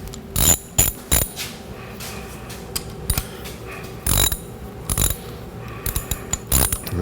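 Ratchet with a 13mm socket tightening the detent spring bolt on a 2003 Chevrolet Silverado 4L60E transmission: several bursts of rapid close clicking, separated by short pauses, with no speech.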